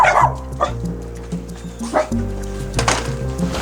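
A stray dog barks, yips and whimpers in short bursts at close range on a New York East Village street, with people talking over and between the sounds.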